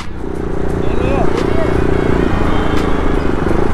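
A motorcycle fitted with an aftermarket exhaust rides along the road from Roorkee to Dehradun, its steady engine drone and wind rush running continuously beneath someone talking loudly close by.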